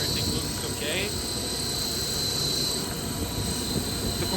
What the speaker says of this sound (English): The compressor is cooling down now.